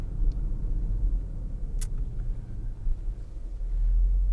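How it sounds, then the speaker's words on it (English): Porsche Panamera 4 Sport Turismo engine with sport exhaust engaged, a low, steady idling rumble heard from inside the car, with a faint brief click partway through. "Sport exhaust, let's put that on."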